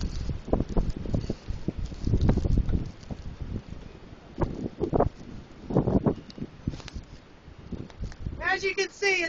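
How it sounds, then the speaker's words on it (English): Strong north wind during a 2010 blizzard buffets the microphone in repeated rough gusts that rise and fall. A voice comes in briefly near the end. "Very windy. Wind is blowing down from the north to the south."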